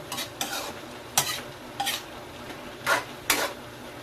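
Chayote and vegetables sizzle in a pan while a utensil scrapes and stirs them in short, irregular strokes, fairly close.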